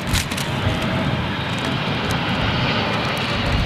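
Saudi Arabian Airlines Boeing 777 jet at London Heathrow, a loud continuous engine roar close by, steady and broadband with no talk over it.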